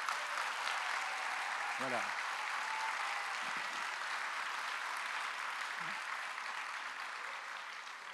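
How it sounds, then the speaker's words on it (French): Sustained applause from a crowd fills the space, steady and dense throughout, with a voice briefly speaking over it. "Il peut donner un premier applaudissement"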